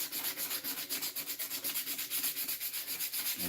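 Sandpaper scuffs the finished wooden surface of a mallet in quick, even back-and-forth strokes, a soft, close, rhythmic rasping with no voices.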